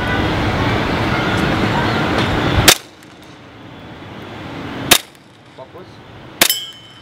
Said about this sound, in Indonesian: Silakan tembak satu target.